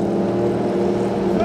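Ferrari F50 engine with a straight-pipe exhaust on a Monaco street, a steady low droning roar with strong rumbling harmonics, loud and continuous throughout.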